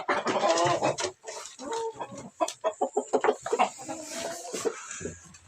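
Backyard laying hens cluck in a busy, uneven run of short calls, some near and loud, others softer, with scattered squawks overlapping through the whole stretch.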